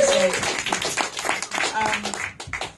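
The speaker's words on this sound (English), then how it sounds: "Give yourselves a round of applause for making it this far in the show." A crowd claps and applauds steadily throughout, a dense patter of hands with some cheering mixed in.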